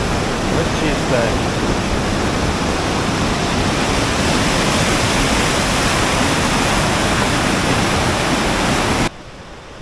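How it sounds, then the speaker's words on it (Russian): Steady, loud roar of rushing water from a small waterfall and fast river in Khao Sok jungle, Thailand, continuous broadband noise that drops off abruptly near the end. "Вон он, видите, это водопадик."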